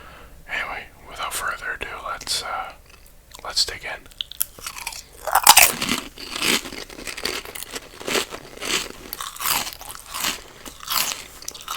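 Crisp crunching, biting and chewing of crunchy chips in a close-miked, whispered ASMR mukbang, with soft whispering between and over the bites.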